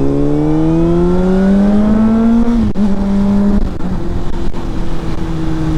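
A 2006 Honda CBR600RR sport bike engine revs loudly and close, its pitch climbing steadily, dropping briefly, then holding at a high idle-like rev without any talking.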